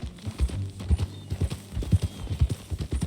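Horse hooves clip-clop in Red Dead Redemption 2 as a rider sets off, a steady close rhythm of hoofbeats with a faint snort or whinny underneath.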